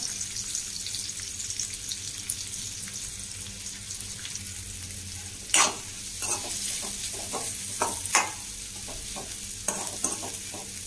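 Potatoes sizzle in hot oil in a home kitchen pan, with a steady frying hiss broken by occasional clinks and scrapes as a utensil stirs them close by. No talking is heard.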